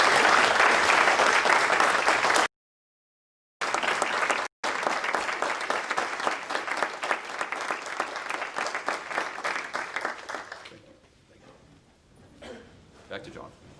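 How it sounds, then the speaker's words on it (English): Sustained applause fills a courtroom at an opening of court session welcoming new attorneys to the bar in the 9th Judicial District. It cuts out briefly twice, then fades into quiet room tone. "Please join me in giving a round of applause for the new attorneys and welcome them to the bar"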